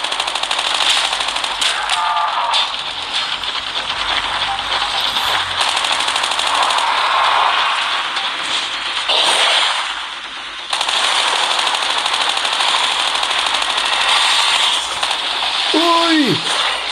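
Rapid automatic gunfire crackles almost nonstop in Call of Duty zombies mode while fighting zombies and a boss, loud and dense, with a player talking and shouting over the shooting.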